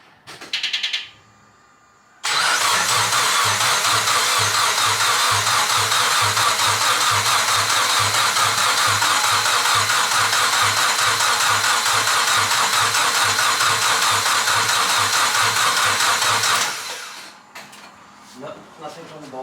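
A rebuilt car engine is cranked by its starter, with a brief whir, then a long steady rhythmic churning for about fourteen seconds, loud and close, before it stops and faint talk follows.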